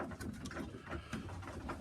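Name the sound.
pigeon cooing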